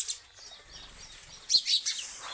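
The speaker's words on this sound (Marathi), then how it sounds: "चिवताई आमच्या चिवचिव करू राहिल्या" Sparrows near livestock fodder on a farm give a few faint tweets, then a quick burst of sharper, louder chirps in quiet rural surroundings.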